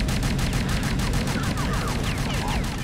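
Rapid, continuous bursts of gunfire, loud and relentless, like automatic weapons firing in a busy scene of the video game Oddworld: Munch's Oddysee.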